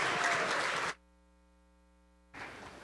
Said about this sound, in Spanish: Con un aplauso para que se despierten.